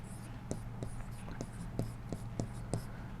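Pen or marker strokes writing out the answer to a Class 7 integers and temperature-difference maths problem, a steady series of short scratchy taps roughly every third of a second over a low room hum.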